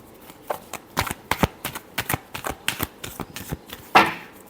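Tarot cards are shuffled by hand up close in a quick run of crisp riffling flicks, about a dozen sharp slaps in irregular rhythm, ending in a louder final snap.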